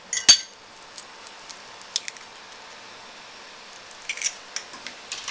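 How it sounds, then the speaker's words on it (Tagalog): Two eggs are whisked with a fork in a bowl, producing light, scattered metallic clinks and taps against the dish, one sharper knock early on and a quick cluster of scrapes later, with no talk. "Batihin natin yung itlog."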